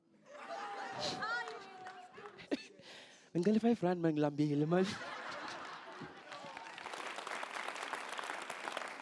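Applause from a studio audience at a televised local democracy debate, broadband clapping with chuckles and chatter through it, broken midway by a loud voice speaking, then the clapping swells back and fills the end.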